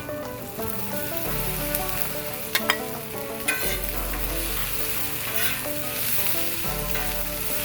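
Potatoes sizzling on a hot grill for a breakfast hash, a dense continuous frying hiss with a few sharp pops and scrapes, close and steady, with a low background hum rising and falling.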